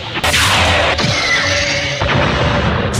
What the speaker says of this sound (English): another nice explosion effect